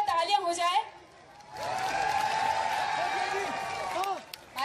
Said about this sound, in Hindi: एक बार इस शाम के लिए जोरदार तालियां हो जाए.